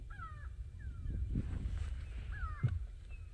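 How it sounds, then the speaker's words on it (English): A go-away bird gives repeated harsh, nasal calls in the open bush of an African safari setting, several short descending calls spaced across the moment against a low rumbling background. "You can also hear the go-away bird now."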